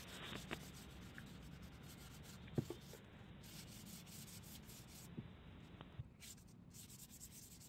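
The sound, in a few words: sanding putty on plywood with 220-320 grit waterproof sandpaper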